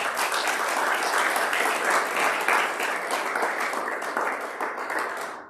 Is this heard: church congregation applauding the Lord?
yes